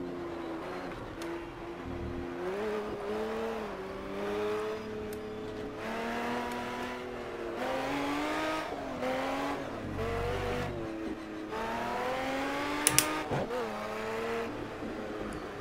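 An Aston Martin Vantage in the Project Cars racing game, its engine droning and revving steadily throughout while the tires lose grip and slide into drifts, the sound continuous and loud with no talk over it.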